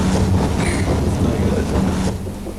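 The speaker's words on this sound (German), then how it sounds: "Zwischen den Bahnhöfen Kurfürstenstraße und Gleisdreieck verlassen die Züge der Linie 1 den Untergrund" A Berlin U-Bahn line 1 train runs between Kurfürstenstraße and Gleisdreieck, giving a loud, steady rumble and rolling rail roar with wind-like rushing throughout, easing slightly near the end.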